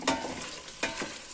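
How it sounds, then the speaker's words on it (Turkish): Chickpeas tipped into a pan of frying meat and potatoes for an Antep yogurt stew, giving a steady close sizzle with a few sharp stirring scrapes and clatters over about a second and a half. "2 su bardağı nohutu da üstüne ekliyorum."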